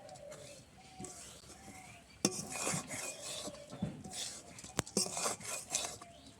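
Flattened rice and jaggery are stirred in a pan with rough, rasping scrapes and a few sharp clinks of utensil on metal, fairly quiet and close, with no voices.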